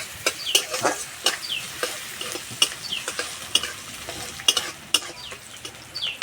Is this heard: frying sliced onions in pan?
yes